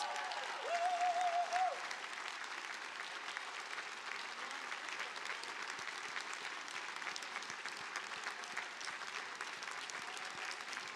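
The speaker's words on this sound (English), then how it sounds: "can we give a huge round of applause to President Garber for standing up for what's right" Large crowd applause for President Garber at Harvard College Class Day 2025, a broad, sustained wash of clapping from a big outdoor audience, steady and fairly distant, with a brief tonal note near the start.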